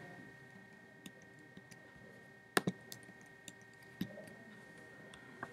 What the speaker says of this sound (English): I'm going to use my arrow keys on my keyboard